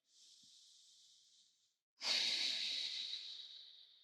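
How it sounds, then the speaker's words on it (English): During a pre-workout warm-up, a person takes a slow resting breath close to the microphone: a soft airy inhale, a short pause, then a stronger, longer breathy exhale that fades away. "And a resting breath."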